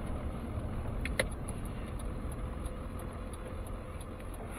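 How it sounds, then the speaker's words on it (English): A big truck pulling a trailer drives along a city street past old buildings, giving a steady low engine and road rumble throughout with a brief clatter near the start. "It's a lot of fun to get into with this big truck and trailer, though"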